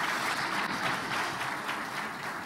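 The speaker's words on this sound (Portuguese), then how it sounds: "Aplauda Jesus pela vida do pastor Messias" A church congregation applauds in a dense, continuous wash of clapping that holds at an even level for a couple of seconds, with no voices standing out.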